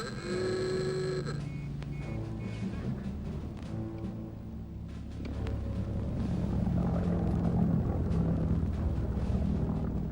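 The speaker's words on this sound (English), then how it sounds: "The V-1s chugged through the barrage, sounding like elderly Model T Fords" A V-1 flying bomb's pulsejet engine drones overhead as a low, rumbling roar that swells louder over ten seconds. A few brief tonal sounds come at the start, and there is no talking.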